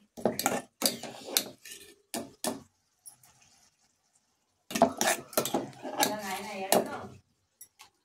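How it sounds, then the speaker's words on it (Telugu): A spoon clatters and scrapes against a pan while egg masala is stirred, a run of close, loud metallic knocks and scrapes broken by a quiet pause. "కలుపుకోవాలి మంచిగా"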